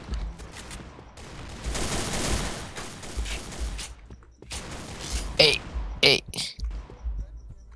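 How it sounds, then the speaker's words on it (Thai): Gunfire in the online shooter Point Blank, with bursts of rapid game shots and sharp metallic weapon clicks that come in clusters, loud and close, while a player talks over the action. "ปืนไม่มีเป้า ยิงแล้วแปลกๆว่ะ"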